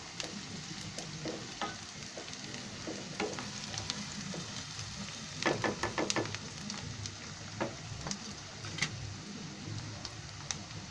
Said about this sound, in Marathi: त्याच्यामध्ये मी थोडी आता मिरची टाकते, कारण कांद्यामध्ये मिरची पण भाजून निघेल.